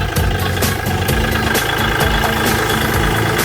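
A Kubota L4018 diesel tractor engine idles loudly and close by, a steady rumbling chug with a rhythmic knock.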